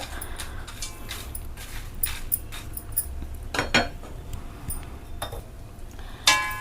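Pumpkin seeds, sunflower seeds and almonds dry-roast in a pan, giving light scattered clicks and clinks of seeds and a stirring utensil against the metal over a low steady background.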